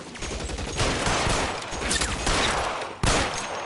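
Rapid gunfire from the video game L.A. Noire, with dense overlapping shots rattling in continuous volleys and a sharp fresh burst toward the end.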